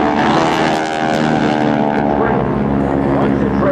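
GEICO Skytypers propeller aircraft flying in formation at an air show drone loudly and continuously overhead, a thick steady engine roar with a slight pitch shift as they pass, and a voice talks over it.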